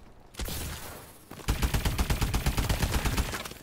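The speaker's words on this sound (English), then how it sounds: "Oh no, somebody shot me." Rapid automatic gunfire rattles in Call of Duty: Advanced Warfare, a short burst followed by a longer sustained volley of loud, evenly spaced shots up close.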